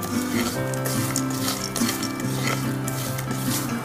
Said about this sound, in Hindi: अब इसी पैन में मैं फ्राइड किया हुआ इंग्रेडिएंट्स डाल दूंगा और इसे अच्छी तरह से मिक्स करना है